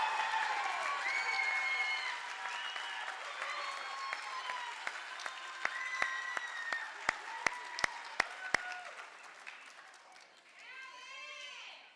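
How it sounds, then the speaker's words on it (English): An audience applauds at a school winter concert, a broad crowd clapping that slowly thins toward the end, with a few sharp individual claps standing out and voices talking over it. "how about one more round of applause for these great students tonight"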